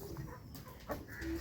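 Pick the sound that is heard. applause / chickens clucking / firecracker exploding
chickens clucking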